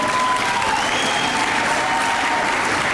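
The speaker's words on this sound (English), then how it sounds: "so let's give her a big round of applause" Audience applause at a sixth grade graduation ceremony, a loud, continuous wash of clapping from a crowd throughout.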